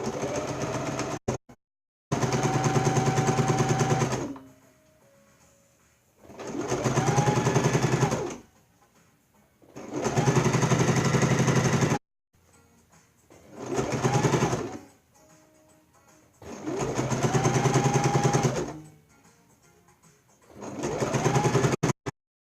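A sewing machine stitches satin fabric in repeated bursts of steady mechanical whirring lasting several seconds each, separated by short pauses, close and loud with no voices.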